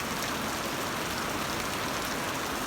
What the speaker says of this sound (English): it's raining harder now